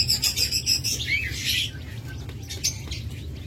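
Pet birds, lovebirds, cockatiels and budgerigars kept for breeding, chirp in a busy overlapping chorus of high tweets that is loud and close, with a low background rumble and no speech.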